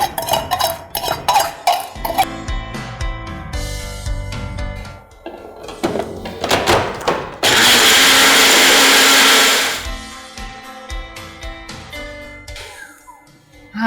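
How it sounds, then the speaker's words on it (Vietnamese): A kitchen blender grinds chili, lime juice, sugar and salt into a salad dressing, a loud steady whir lasting a couple of seconds between clinks and handling noises of preparation. "mình sẽ xay ra."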